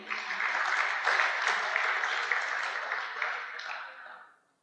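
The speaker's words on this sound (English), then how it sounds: "a nice round of applause there for him" An audience at a no-till farming club conference applauds a category winner, a dense, steady wash of clapping that holds for about four seconds before fading quickly to silence.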